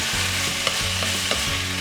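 Shrimp with salt and pepper stir-fry in a pan, giving a steady close sizzle broken by faint, regular scraping strokes of the stirring, with no voices.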